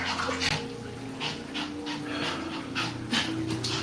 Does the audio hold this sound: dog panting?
yes